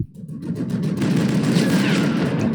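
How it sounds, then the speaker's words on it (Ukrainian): Dense rattling bursts of video game gunfire with booming rumble underneath, sustained and loud throughout, in a Sniper Elite mission set in Berlin. "Хто стріляє?"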